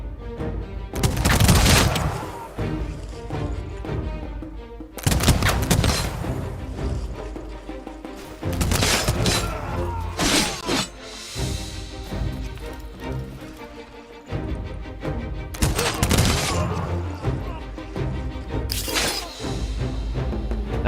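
Bursts of massed musket fire from the Humankind strategy game, several loud crashing volleys spaced a few seconds apart, each followed by a short ringing decay.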